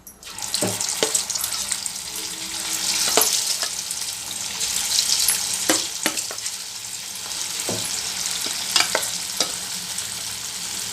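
Garlic kebabs frying in hot oil, a steady close sizzle with occasional sharp clinks and scrapes of stirring.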